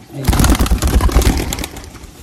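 A male Madrasi Teepler pigeon coos close by in a low, throaty, rolling burst lasting a couple of seconds.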